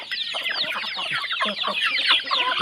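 Burmese fighting chickens cluck busily and overlap each other close by while being fed unhusked rice in the evening, with dense, continuous chattering calls.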